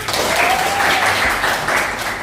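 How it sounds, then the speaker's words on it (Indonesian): A classroom full of people claps together, a dense burst of applause that holds steady for a couple of seconds, fairly close and loud. "Bisa kita kasih tepuk tangan."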